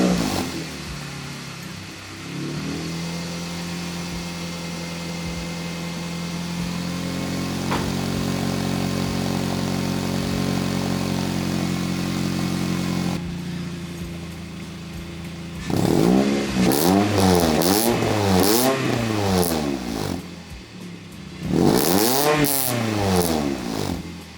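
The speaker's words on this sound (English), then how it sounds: "let's get it lowered down and let's get this car started" Car fitted with a Tsudo race header starts and idles with a loud, raspy drone, then gives two bursts of sharp revving that climb and fall, heard close with no talking.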